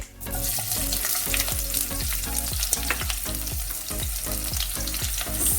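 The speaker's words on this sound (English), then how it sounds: "Now I'm adding half onion roughly chopped." Roughly chopped onion fries with turmeric powder in a pan for matar paneer, a loud continuous sizzle cut by regular, rhythmic stirring strokes throughout.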